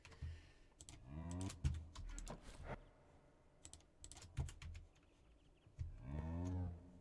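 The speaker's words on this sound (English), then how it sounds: "I hear cows." Cows mooing in a modded game of Minecraft, several drawn-out low moos at intervals amid bursts of computer keyboard typing and clicking, with no voices.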